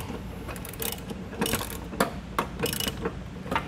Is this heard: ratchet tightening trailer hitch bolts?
yes